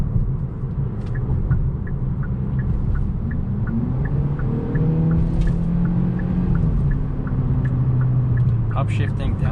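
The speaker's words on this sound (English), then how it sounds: "even leaving it in automatic mode, in sport mode, it does shift nice and quick" A 2022 Hyundai Elantra N Line in sport mode, its engine droning steadily from inside the cabin as the revs rise and fall through quick automatic gear changes, with a light repetitive ticking on top.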